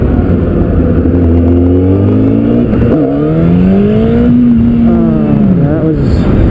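A motorcycle engine revs hard in first gear for a wheelie, pitch climbing and falling as the throttle opens and closes, loud and close under wind noise, with someone speaking over it.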